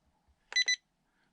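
Two short, bright electronic beeps from the controller of a RocHobby 1941 Willys MB 1/12 scale RC jeep as the drag brake is set, close and clear with near silence around them.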